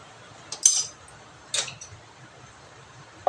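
A metal kadhai (wok) being set down and handled on a gas stove in a home kitchen, heard as two short clanks of metal with a small clink at the end, over quiet background.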